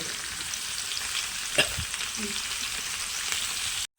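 Ridge gourd pieces frying in a little oil in a pan, a loud continuous sizzle with a brief stirring scrape midway and a sudden cut near the end; no talking.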